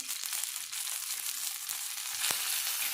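Cumin seeds crackling in a little hot oil in the pan where green chillies were roasted, a steady close sizzle with a sharp tap near the end and no speech.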